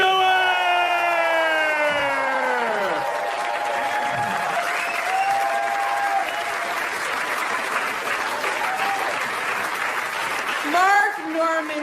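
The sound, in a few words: audience applause for Amy Schumer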